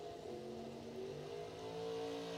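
A 1934 Chevrolet Roadster drag racing car accelerates down a bracket racing strip, its engine tone rising steadily in a continuous revving whine, heard at a moderate distance and fairly faint.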